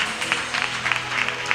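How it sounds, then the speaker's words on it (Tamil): Church congregation at a Christmas worship service clapping hands above their heads, a dense, fairly loud wash of applause with sharper individual claps popping out. "தலைக்கு மேல கைத்தட்டி"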